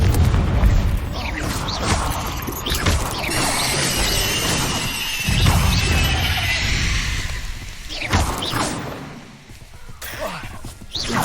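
Confringo blasting spells go off in Hogwarts Legacy combat, loud booming bursts with crackling, shattering debris over a busy mix of game sounds, several blasts across the stretch and a sharp one near the end.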